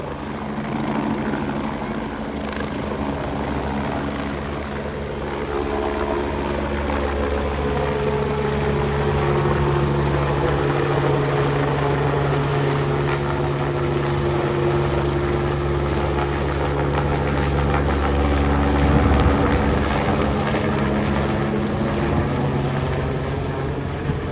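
A ship's engine runs with a loud, steady, low mechanical drone that swells slightly over its length and never lets up, with no voices.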